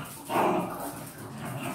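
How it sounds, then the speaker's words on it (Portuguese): Two dogs playing indoors, letting out a brief whimpering yip amid scuffling noise, close by. "Não esquenta não, que é meus cachorros fazendo bagunça"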